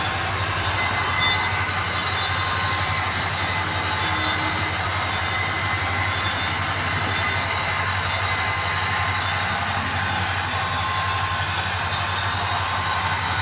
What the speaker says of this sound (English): the little black RS2 switcher with the tanker, he's flip-flopping between the 2 figure 8s